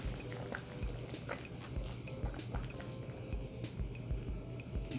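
Hot liquid stock is ladled into a pot of beef short rib adobo, making soft, quiet pouring and dripping splashes that repeat in uneven scoops over low kitchen background noise.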